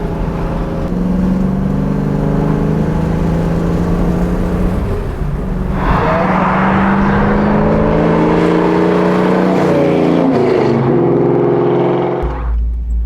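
A 1966 Mustang Fastback restomod with a 347 stroker V8 drives by, its loud engine droning steadily, then revving hard as it accelerates before cutting off abruptly near the end.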